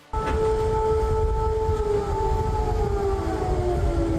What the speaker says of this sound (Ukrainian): Це місцеві говорять про сирену.